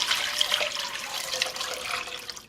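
Water pours in a steady, soft stream into a pot for a couple of seconds, with no voices.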